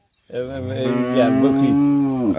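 A single cow at a cattle farm in Cumilla, Bangladesh, moos loudly and close up, one long drawn-out low call that trails off at the end.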